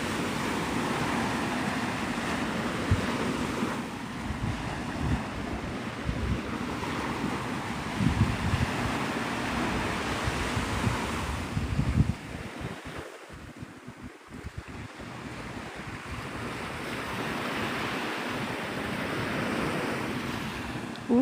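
Ocean surf rolls in at Navarre Beach, Florida under a stormy sunrise, a steady wash of breaking waves with strong wind buffeting the microphone and no talk.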